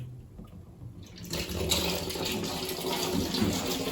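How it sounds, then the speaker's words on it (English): Water siphons out of a bathtub through a hose in a steady, rushing gush that swells after a quieter start and runs on continuously, close and fairly loud. "this water is going to siphon out of the bathtub"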